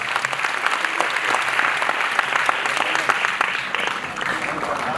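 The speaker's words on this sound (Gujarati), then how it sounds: "જોરદાર તાળીઓ થવી જોઈએ." An audience at a drug awareness event breaks into dense, sustained clapping that stays steady and fairly loud throughout, with a faint crowd murmur underneath.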